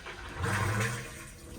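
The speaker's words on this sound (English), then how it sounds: "you put your foot on it and you press about halfway down, your bowl's going to fill with water" A foot-pedal valve on an RV toilet in a 2023 Forest River Salem Hemisphere Elite 35RE lets water rush into the bowl, a short gurgling fill that swells and fades within a second or so, fairly quiet.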